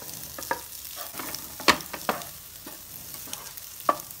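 Chopped boiled eggs fry and get stirred into a masala for egg biryani, giving a soft, steady sizzle broken by several sharp spoon clinks and scrapes against the pan, with no talking.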